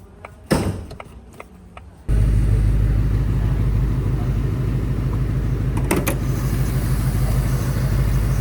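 After a couple of faint clicks and a thump, a 2024 Ford Mustang GT's 5.0-liter V8 starts with a loud burst and settles into a deep, steady, close idle rumble.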